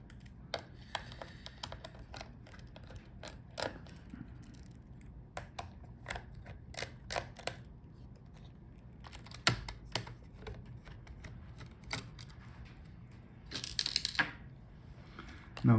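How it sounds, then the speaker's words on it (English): Screws are being undone on an Asus ROG Strix G512 gaming laptop, with a run of small, close, irregular clicks and ticks from the screwdriver spread across the whole stretch. "Now let's unscrew the screws."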